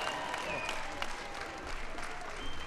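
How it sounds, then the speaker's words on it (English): Crowd applause for the Super Bowl champion New York Giants at the White House, a steady wash of many hands clapping with some voices and cheering mixed in, continuous and moderately loud. "Give the New York Giants a big round of applause."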